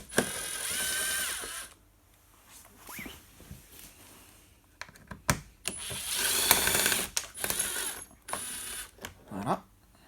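Torx 20 screws being backed out of a Renault Clio 2 fog light: close, irregular ratcheting and metallic turning clicks in bursts, with quiet gaps between them.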